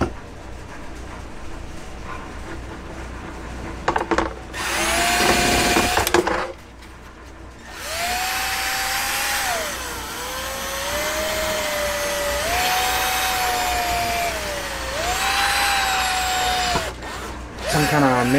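A drill bores a hole through a plastic clutch cover on a Maverick X3, with a short burst followed by long, steady whining runs whose pitch dips under load, loud and close.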